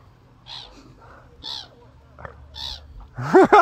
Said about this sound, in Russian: Чайки, если честно, они какие-то такие долбанутые.